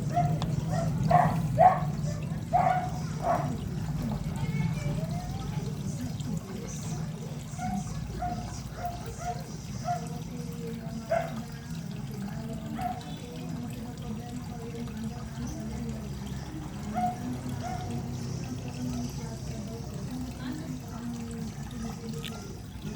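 Floodwater pours and flows steadily around the capitol in Sagbayan, where water pools for lack of a drainage canal, a continuous low rushing wash with occasional splashes and faint distant sounds.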